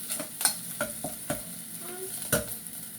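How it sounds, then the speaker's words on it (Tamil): Curry leaves and onions fry for a cauliflower varai, a soft sizzle punctuated by several sharp spoon clacks and scrapes against the pan as it is stirred. "கறிவேப்பிலையை போட்டுட்டு இதையும் நல்லா மிக்ஸ் பண்ணி விட வேணும் அப்போ தான் கருவேப்பிலையும் வெங்காயமும் நல்லா பொரிஞ்சு வரும்"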